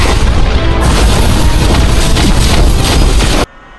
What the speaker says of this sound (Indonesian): sebuah sosok setinggi gunung mendarat dengan dentuman keras di depannya